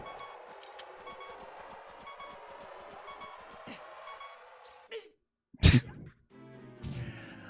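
Low-health warning beeps in the Ocarina of Time video game, a rapid run of repeated short tones under game sounds, followed by a sudden loud hit and other effects.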